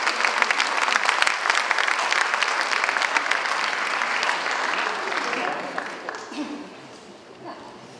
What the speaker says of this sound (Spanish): Recibamos con un fuerte y cariñoso aplauso a nuestra primera autoridad comunal.